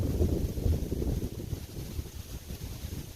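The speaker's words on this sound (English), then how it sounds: "Come on, wind, stop." Strong wind buffets the microphone outdoors on a Pennsylvania disc golf course, a rumbling, gusting roar that swells and eases over a few seconds with no talk.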